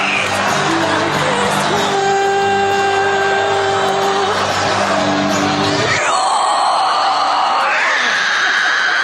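A high school girl singing a song on a televised talent show stage lets out a loud, harsh shriek that breaks from sustained sung tones into a piercing high scream over crowd noise.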